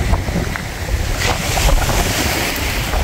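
A fresh breeze blows steadily across Maraetai Beach in South Auckland, rumbling over the microphone alongside a continuous wash of surf, loud and close with no talking.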